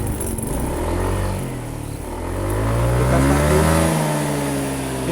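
A Yamaha NMAX scooter engine revs up from a low idle, rising smoothly to a higher pitch and falling back, close and alone with no voices.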